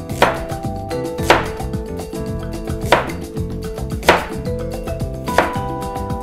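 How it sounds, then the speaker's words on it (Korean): A knife chops carrot on a cutting board during preparation for Korean rice cake soup, striking in five sharp, evenly spaced hits about one second apart, loud and close with no talking. "당근도 썰어볼게요."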